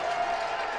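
An indoor arena crowd at an indoor football game, Billings Outlaws at Salina Liberty, keeps up a steady, dense roar of cheering for a brief moment, loud and continuous, with no separate voice standing out.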